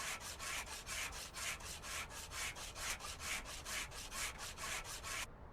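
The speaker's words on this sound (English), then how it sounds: "Wait, that's just sandpaper." Sandpaper rubbing on a car part in Car Dealer Simulator, heard as a fast, even run of rasping back-and-forth strokes, loud and continuous, then stopping abruptly near the end, with no voices.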